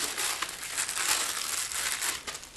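A plastic sleeve around an Everly Brothers vinyl record crinkles sharply up close as it is handled, a steady crackling rustle with small louder crunches and no voices over it.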